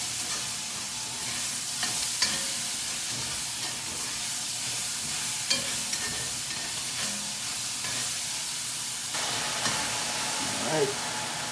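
Steady sizzle and hiss of chow mein noodles stir-fried in a hot pan, with occasional clinks and scrapes of stirring over the continuous frying.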